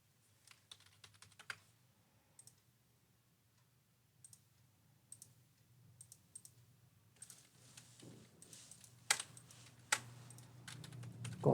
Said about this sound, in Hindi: कॉपी पेस्ट का ऑप्शन इनेबल नहीं है इसमें, तो आपको टाइप ही करना पड़ेगा।